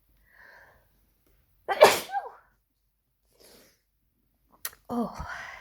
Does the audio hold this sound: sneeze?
yes